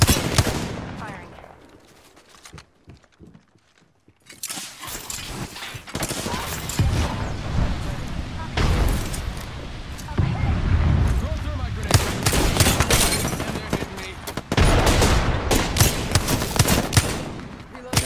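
Machine guns fire in long, loud bursts of rapid rounds, broken by short pauses and a brief quiet stretch, with voices calling out between the volleys.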